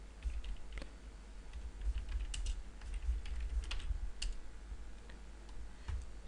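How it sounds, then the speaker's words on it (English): Fingers typing on a computer keyboard in a quiet room: a steady run of light, close key clicks with small pauses between bursts and no voices. "Here we type in PayPal."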